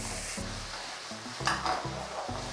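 Soft stirring and scraping of thickening jjajang sauce in a pan with a faint sizzle underneath, quiet and close, with a couple of light utensil knocks.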